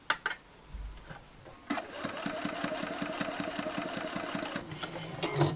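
A sewing machine starts up and stitches fabric for a reusable cutlery pouch, its quick regular needle thumps running steadily and close for several seconds after a few handling knocks.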